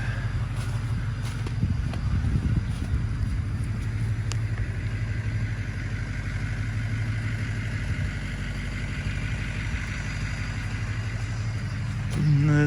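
A skid steer loader's engine runs steadily nearby, a continuous mid-to-low mechanical drone with slight rumbling variations and a brief change in pitch near the end.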